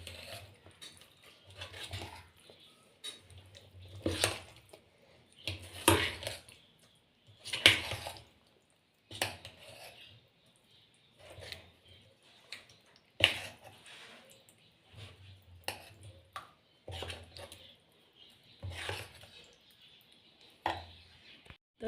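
Dhokla batter mixed with soaked, partly boiled ingredients is stirred in a vessel, giving intermittent scraping and squelching strokes in irregular bursts with quiet gaps between, close and moderately soft.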